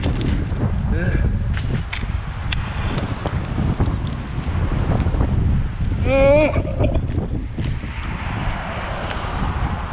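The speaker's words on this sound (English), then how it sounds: "Being windy." Loud, continuous wind buffeting the microphone with low rumbling gusts while cutting a rotten spruce tree, as a voice speaks briefly partway through.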